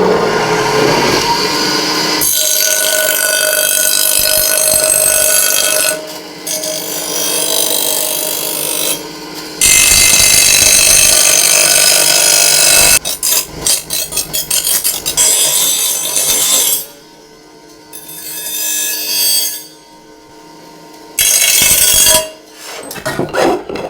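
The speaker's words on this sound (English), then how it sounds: "now I'm going to grind off the edges and make it a bit more smooth" A power grinder smooths the edges of a thick, rough-cut metal bracket for an old rusty build in a workshop, giving a loud, close, sustained whine that stops and restarts in bursts with short pauses between passes.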